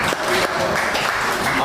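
A crowd at a live coaches show in a brewery claps for a junior varsity head coach, a short, loud burst of close applause with a faint murmur of voices underneath.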